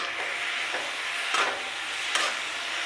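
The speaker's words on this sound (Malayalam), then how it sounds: "നന്നായിട്ട് ഇളക്കി യോജിപ്പിക്കുക." Mushrooms with turmeric and salt sizzle steadily in a pan, a dense close hiss with a few soft scrapes as they are stirred.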